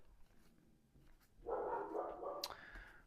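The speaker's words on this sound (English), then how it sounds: "my dogs are going nuts downstairs" Dogs barking downstairs in a house, faint and muffled through the floor: a short burst of yelping barks that swells midway, then trails off with a sharp yip near the end.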